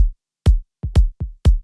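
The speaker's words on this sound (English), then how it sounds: "Then we need a sub kick hitting on the off beat and roll off the lows." Sub kick drum hits in an organic house beat, about five deep thumps with rolled-off lows, falling on the off beat in an uneven pattern, loud and isolated against silence.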